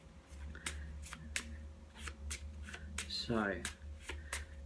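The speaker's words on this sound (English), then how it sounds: "let's give these a good old shuffle up" A tarot deck being shuffled by hand at close range, giving a series of crisp papery riffles and slaps at an irregular pace, set against a steady low hum, with a short spoken word at one point.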